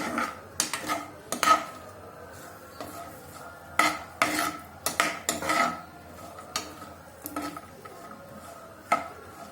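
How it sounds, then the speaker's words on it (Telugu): Chopped cashews being stirred in two spoons of ghee in a kadai over a medium flame, with repeated clinks and scrapes of a spoon against the pan and only a faint sizzle beneath, at close range. "నేను దోరగా వేయించుకోవాలి"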